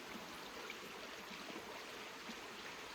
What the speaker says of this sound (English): The river comes from up there and goes around that bend